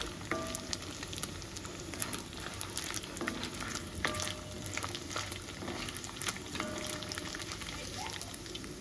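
Dried fish crisping in hot oil, a steady close sizzle with scattered pops and crackles running the whole time, and no voices.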